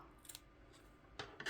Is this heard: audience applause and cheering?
no